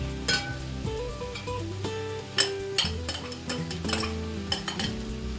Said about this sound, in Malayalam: ഒരു മുറി തേങ്ങയും കൂടി ഞാൻ ഇതിലേക്ക് ചേർത്തിട്ടുണ്ട്. ഇത് നമുക്കിത് ഇളക്കാം